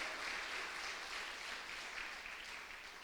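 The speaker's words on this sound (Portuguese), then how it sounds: "As palmas para o Senhor nesta noite." A church congregation applauds during an evening service, a soft, distant wash of steady clapping with no talk.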